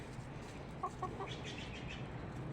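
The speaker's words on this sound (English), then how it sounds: "I can hear the birds" Chickens cluck faintly, in a few short bursts of clucking over a quiet, steady background.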